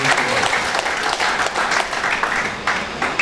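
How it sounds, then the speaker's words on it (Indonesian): An audience at an organisation's national meeting in Yogyakarta applauds loudly, with dense continuous clapping throughout and scattered voices beneath. "Mari kita tepuk tangan ini Pak Safruddin."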